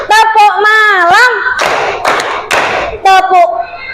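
Children playing a classroom clapping game produce short bursts of loud, close hand claps in rhythm, alternating with chanted group voices.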